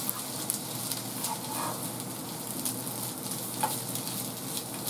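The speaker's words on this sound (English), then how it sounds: "And you hear the sizzling, that's the onion. The frozen onion." Frozen onion chunks sizzling in a breakfast pan, a constant close hiss with small crackles and occasional pops, with no one speaking over it.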